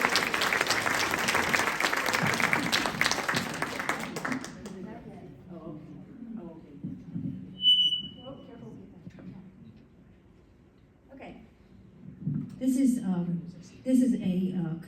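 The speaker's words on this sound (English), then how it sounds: "let's give a round of applause to Michelle's group" A round of audience applause at an organization's annual meeting, loud and full for about four seconds before cutting off, followed by quiet room sounds and a speaker talking.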